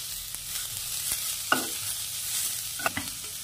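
Garlic clove dropped into browned onions in a pan: a quiet sizzle with a few sharp stirring clatters and scrapes.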